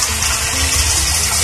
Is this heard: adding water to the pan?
yes